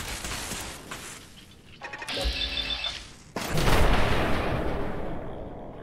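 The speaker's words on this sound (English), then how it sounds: "We are being shot at." Gunfire and explosive blasts in a shooter video game, sustained dense bursts of loud shooting with a metallic mechanical stretch in the middle, close and continuous with no talking.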